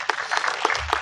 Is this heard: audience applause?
yes